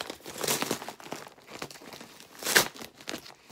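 Packing tape pulled and pressed around a plastic freezer bag gives close crinkling and rustling, with a sharper tearing rip partway through.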